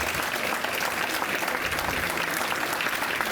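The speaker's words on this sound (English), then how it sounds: "And I want y'all to clap for that." Dense, steady audience applause fills a retirement event honoring a politician, loud and continuous throughout with no break or voice.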